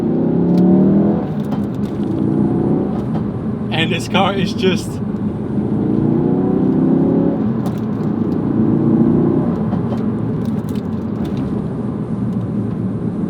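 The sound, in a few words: Ford Focus RS 350 horsepower accelerating on road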